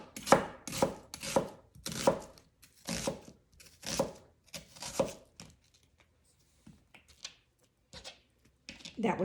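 A knife chops a small-to-medium onion into fairly coarse pieces, with a quick run of sharp, close board strikes at the start that thin into scattered, quieter cuts. No one talks over the chopping.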